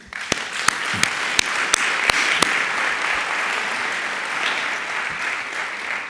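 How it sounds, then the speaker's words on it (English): A crowd claps for a man standing up before them, a few sharp individual claps at first, then a sustained, even spread of applause from many people. "Let these fine people clap for you"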